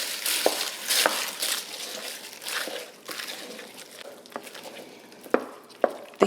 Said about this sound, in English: I think I'm gonna stir this in with a wooden spoon